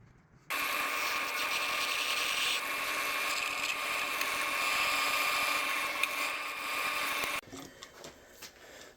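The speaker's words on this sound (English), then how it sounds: "So I got the holes drilled." A power drill bores holes in a Damascus steel knife blade, giving a loud, steady high-pitched whine that starts abruptly and holds for about seven seconds before cutting off.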